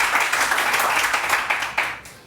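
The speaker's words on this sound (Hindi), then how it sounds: "हमारे ये जो साउंड के जो लोग हैं उनके लिए आप लोग बहुत तालियां बजाएं" A crowd claps for the sound crew at a live stage show, a short burst of dense, fairly close applause that tapers off near the end.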